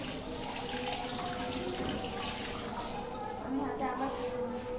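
Tap water runs steadily into a sink while hands are washed, each finger scrubbed, a continuous close hiss that holds through the whole stretch with a voice speaking over it.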